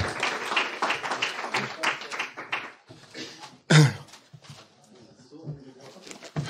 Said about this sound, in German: Einen fröhlichen Applaus für unseren Vortragenden